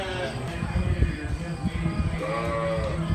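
Sheep bleating in a livestock area at a county fair, wavering calls rising over a busy crowd with people talking nearby.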